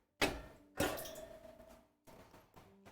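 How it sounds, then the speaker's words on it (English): A glass bottle nearly knocked over on a kitchen counter: two sharp knocks close together, each ringing briefly and decaying, followed by a softer clunk a moment later, with no talking. "Almost knocked over a glass bottle."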